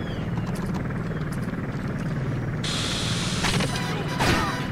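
Rapid rotor chop of a helicopter in the video game 007: Agent Under Fire, fairly close and steady, joined midway by a bright hiss and a burst of clattering effects.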